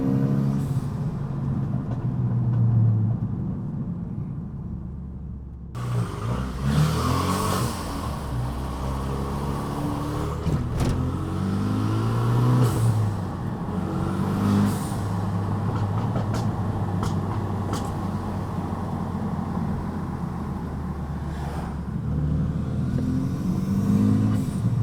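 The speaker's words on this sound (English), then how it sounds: "the car's exhaust is just echoing off of the mountains here." A Renault Megane RS project car driven on a mountain road, its exhaust drone rising and falling with revs and echoing off the surrounding slopes, steady and fairly loud, with no talk.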